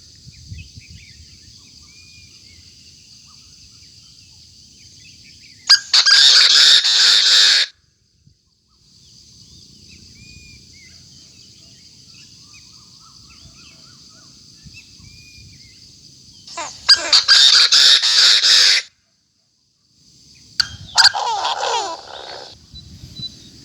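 Loud, harsh bird calls blare in three bursts from a speaker, separated by quieter stretches with faint distant chirps and background hum.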